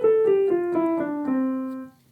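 Piano playing a slow descending five-note scale from C as a finger exercise, each note struck clearly in even rhythm and ringing close and alone until the last note fades.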